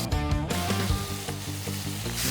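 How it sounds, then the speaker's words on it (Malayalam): Chopped boneless chicken hits a pan of half-cooked frying onions with a loud, bright sizzle that crackles on steadily, close up and alone. "ഇതിലേക്ക് ചെറുതായി കട്ട് ചെയ്ത് വെച്ച ചിക്കൻ ചേർത്ത് കൊടുക്കാം."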